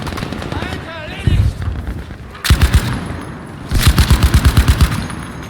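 Gunfire in the video game Battlefield V, rapid machine-gun bursts in two loud rhythmic runs of evenly spaced shots, with a player talking excitedly before and between them.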